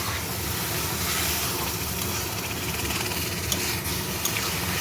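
Water hits a hot pan of semolina pulao and sets off a loud, continuous broadband hiss and steam roar that holds steady for several seconds, close and with no talk.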